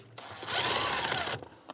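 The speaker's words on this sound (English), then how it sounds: "There we are, that's that bolt removed." A 13mm bolt is spun out with a power tool on a Mini Cooper during front subframe removal, giving one close, rising whirring run of about a second followed by a faint metallic click.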